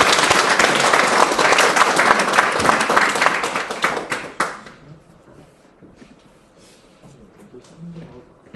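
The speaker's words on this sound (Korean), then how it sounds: "큰 박수로 환영해 주십시오" An audience applauding to welcome a lecturer at a peace and unification policy lecture, loud sustained clapping for about four seconds that then fades, with a voice beginning to speak softly afterward.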